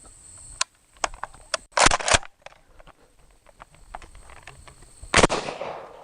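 Loud blasts from a Smith & Wesson M&P12 shotgun firing mini shells at a range, with two close reports around the middle and another heavy one near the end, amid clicks and handling noises between shots.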